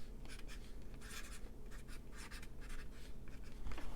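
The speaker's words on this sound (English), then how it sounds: "I gotta write this down before I forget." A pen scratches across paper as measurements are written down by hand, a close, quiet run of short strokes and scribbles with no talking.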